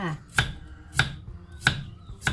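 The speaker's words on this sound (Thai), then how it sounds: "น้องก็จะหั่นประมาณนี้นะคะ" A knife chops chayote on a cutting board, four evenly spaced crisp cuts, close and alone.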